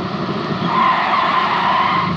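A van skids with squealing tires as it pulls up in front of a college and stops, a loud, sustained screech with steady engine noise lasting about two seconds.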